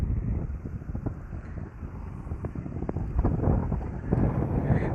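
Wind gusts across an open wetland fish pond and buffets the microphone with low rumbling noise that swells toward the end, with no talk.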